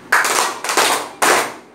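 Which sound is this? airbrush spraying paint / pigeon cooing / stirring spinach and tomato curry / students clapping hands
students clapping hands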